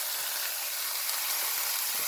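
Peppers hiss and sizzle steadily in a hot pan, a continuous broadband frying sound with no pauses, close and fairly quiet.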